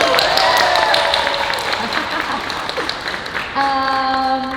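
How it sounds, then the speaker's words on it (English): Audience applause welcoming a guest at a festival Q&A in Ghent, a dense round of clapping that thins out while tonal music or voices rise over it, and a held musical chord enters near the end. "I think that deserves applause"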